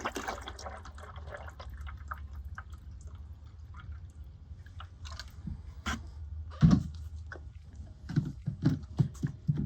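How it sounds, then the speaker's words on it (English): Roll-on coating stripper is poured into a 5-gallon bucket, giving a soft continuous liquid glug and splash, followed by a few sharper drips and knocks near the end, with no talk. "this is a roll-on product, so we use this when the coatings are really bad. We're gonna go ahead and put it in a 5-gallon bucket"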